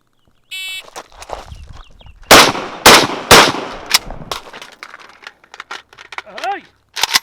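Carbine rifle shots during a 120 drill at the 30-yard line, several sharp loud cracks in two quick groups separated by a brief reload pause, with footsteps, clatter and a voice around them.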